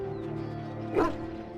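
Hunting dogs in the fantasy game Dragon Age: Origins give a single short bark or yelp near the middle, sitting over a steady bed of game music without any talk.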